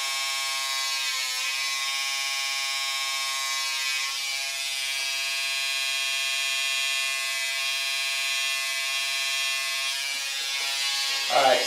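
An electric trimmer shaping eyebrows buzzes steadily and loudly close by throughout, with slight changes in tone as it moves and a brief bump of handling noise at the very end.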